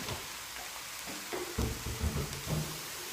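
Onion sautés in olive oil in a pan at the start of a cep mushroom risotto, giving a soft, steady close sizzle with faint scraping stirs and no voices.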